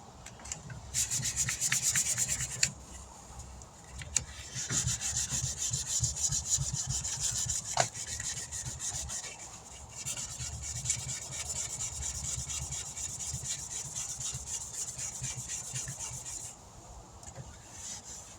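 Sandpaper rubbed by hand over the body panel of a 1996 Dodge Ram 1500 work truck, close rasping strokes in a steady back-and-forth rhythm with a few brief pauses and knocks.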